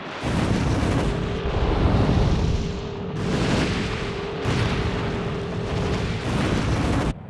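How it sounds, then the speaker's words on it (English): A deep, continuous roaring rumble from an exploding gas field, like a massive distant explosion or fire blast, with heavy surges of noise rising and falling, loud throughout. "I reckon a gas field has been blown"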